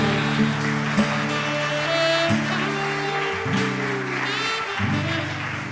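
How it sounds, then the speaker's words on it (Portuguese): A church congregation applauds in a sustained, dense wash of clapping, heard alongside held keyboard chords. "Dê um aplauso ao Senhor Jesus."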